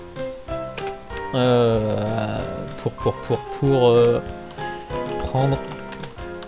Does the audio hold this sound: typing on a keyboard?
yes